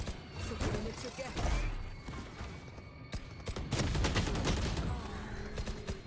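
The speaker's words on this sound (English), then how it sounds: "Dude, my shotguns aren't working today." Shotgun blasts in a video game shooter like Valorant or The Finals go off as a series of sharp, punchy shots scattered across the clip, mixed with game sounds while people talk.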